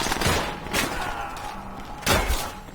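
Enemy gunfire cracks in the World War II shooter World at War, with several sharp shots at uneven intervals, one louder volley near the end, under game ambience and no talk.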